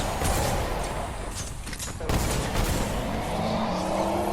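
Rapid weapon fire from a steampunk-set gun in Fortnite Save the World, hitting a smasher enemy; dense bursts of shots run steadily throughout, with a brief lull midway, over game background noise.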